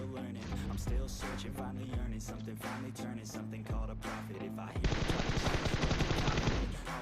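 Gunfire in a video game: rapid bursts of shots over a busy game soundtrack, building into sustained automatic fire toward the end, fairly quiet overall.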